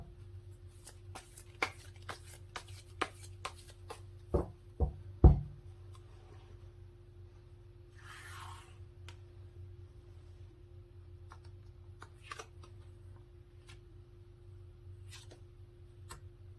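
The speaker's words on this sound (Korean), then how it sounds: "카드를 뽑아보도록 할게요" Tarot cards are handled on a table in a quiet room: sparse sharp taps and clicks, a few louder knocks, then a brief soft riffling rustle, all close and isolated.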